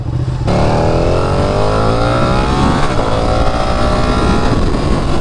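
A loud Ducati Panigale V4 motorcycle engine revs up and holds a high, roaring drone, its pitch climbing steadily, close and continuous with no voices.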